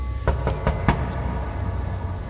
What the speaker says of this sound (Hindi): तभी उनके दरवाजे पर किसी ने दस्तक दी।